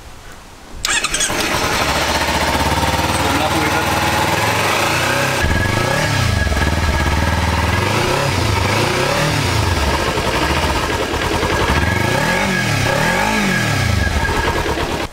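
Motorcycle with a stock exhaust starting up and settling into a steady idle, then revved in several rising and falling sweeps, loud and close throughout with no talking.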